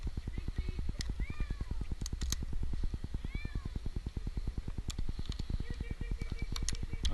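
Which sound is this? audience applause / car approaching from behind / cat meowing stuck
cat meowing stuck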